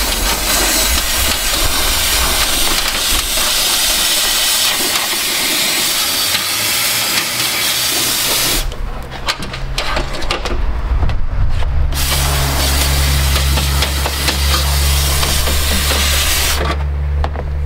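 A compressed-air spray wand fogs rust-proofing into the insides of a car's front fenders, producing a loud continuous hiss that briefly cuts out and resumes, close to the listener with a low compressor drone underneath.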